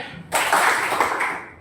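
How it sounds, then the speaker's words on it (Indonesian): A single burst of hand clapping, close and moderately loud, lasting about a second before fading. "Guru berkata, tepuk tangan."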